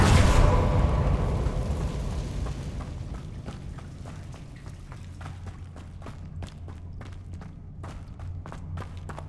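In Hogwarts Legacy, a Confringo blasting spell explodes with a loud opening boom, then a rumbling decay scattered with falling debris and sharp clatters.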